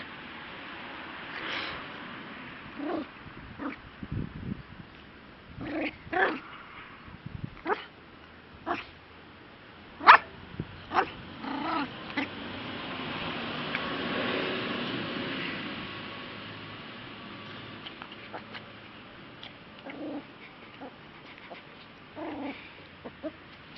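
A small Yorkshire terrier gives scattered short barks and high whimpers, sometimes in quick clusters, with quiet gaps and a soft whooshing swell in between.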